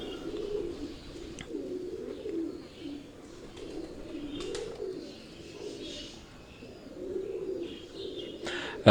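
Teddy breed pigeons in a breeding setup coo close by in slow, repeated rolling phrases, several rises and falls with short pauses, and faint chirps and clicks now and then.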